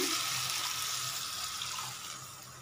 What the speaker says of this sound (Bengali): এখন দিতেছি পরিমাণ জল